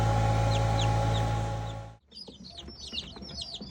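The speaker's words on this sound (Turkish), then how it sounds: "bunlar yeni çıkan civcivler." Newly hatched chicks peeping in a rapid chorus of high, thin chirps, first over a loud steady hum from a Çimuka CT60 SH incubator, then standing out clearly once the hum cuts off.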